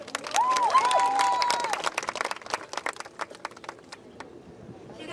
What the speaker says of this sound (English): You could please hold your applause to the very end